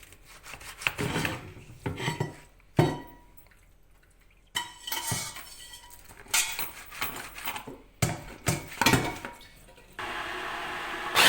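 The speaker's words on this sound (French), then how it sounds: "là je suis en train de mixer mes sardines. Enfin, les hacher grosses, les hacher avec la machine, le mixeur" A blender coarsely chops sardines in short, harsh pulsing bursts separated by brief pauses, finishing with a steady, continuous whir at the end.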